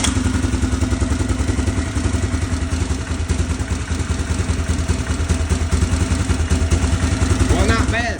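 A rebuilt 2001 Yamaha Grizzly 600 4x4 ATV engine runs steadily up close, a loud continuous chugging idle with clattery mechanical rattle and a slightly uneven carburetor, while someone speaks over it.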